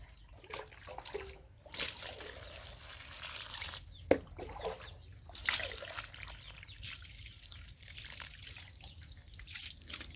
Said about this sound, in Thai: ล้าง ลูกหม่อนให้สะอาดก่อนเนาะ